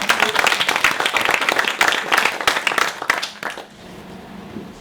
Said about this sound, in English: So can we just do a little round of applause for John?